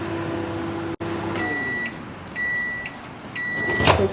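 A microwave oven hums steadily while roasting peanuts without oil, with repeated electronic beeps from its panel in several short bursts near the cabinet.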